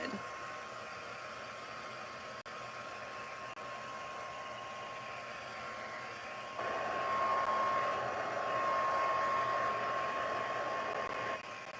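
A heat tool dries card-making paste with a continuous close whirring blow that steps louder partway through and runs steadily before cutting back, with no voices over it.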